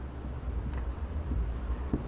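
Pen or chalk writing out a sentence during an English grammar lesson, with soft scratching strokes and brief taps under low background hum.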